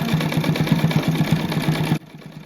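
A sewing machine stitches a seam on a fabric rug, giving a fast, even mechanical hum heard close and alone, then stopping abruptly near the end.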